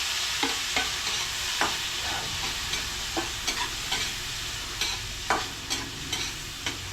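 Tomatoes fry in a pan with a steady close sizzle, broken by repeated sharp scraping clicks as they are stirred, with no voices.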